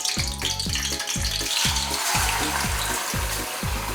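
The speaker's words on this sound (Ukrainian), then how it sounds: "Якщо шкварчить, все, м'ясо е, можна закладати сюди." Meat for Ukrainian-style plov sizzles loudly in a hot pan, a dense crackling hiss with steady rhythmic pulses underneath, close and continuous.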